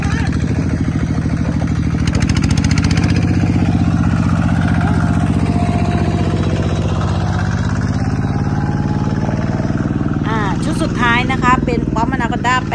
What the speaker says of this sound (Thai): ลองสตาร์ทเครื่องดูค่ะ